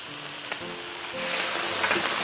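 Squid with green and red pepper chunks sizzles steadily in a hot wok after a splash of Shaoxing wine, the hiss swelling louder halfway through with faint stirring scrapes.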